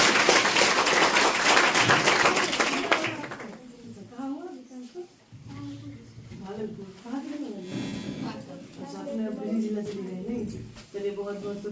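A crowd bursts into loud, dense applause at a farewell and felicitation ceremony to honour an inspecting officer, the clapping filling the first three seconds before fading out as a voice and other speech take over.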